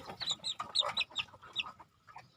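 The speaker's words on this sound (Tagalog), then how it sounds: "Ayan, ang aming mga pasisiw" Backyard chicks peeping and clucking in a quick overlapping flurry of short calls, fairly close but soft, with no talking.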